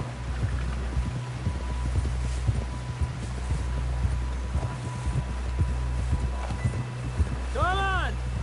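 Horse hooves clip-clop in the video game Red Dead Redemption 2, a steady run of close, regular hoofbeats over low wind rumble, with a brief tonal chime near the end.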